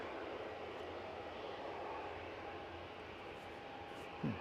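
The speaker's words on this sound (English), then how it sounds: "There's my plane" An airplane passes at Edinburgh Airport, its engines a steady, fairly distant broadband roar that holds throughout, with no talking.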